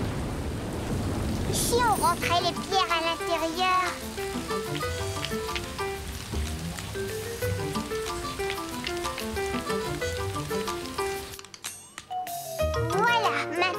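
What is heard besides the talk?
rain falling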